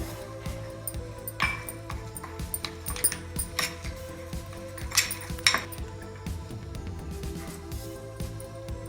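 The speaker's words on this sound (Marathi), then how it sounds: "थोडंसं चमच्याने चांगलं हलवून घेऊया" A spoon stirring sugar in a bowl of homemade chakka for kesar shrikhand, with repeated light clinks and scrapes of metal against the bowl at an irregular rhythm, close and fairly quiet, no speech.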